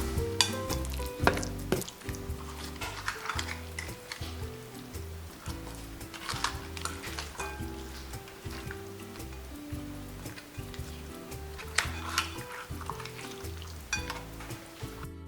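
Female blue crabs being tossed and coated by hand in a spicy-sweet seasoning paste, giving steady close wet squelching and sticky stirring noises with small clicks of shell throughout.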